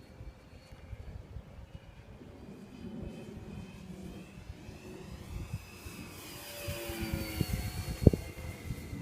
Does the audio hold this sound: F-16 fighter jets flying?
yes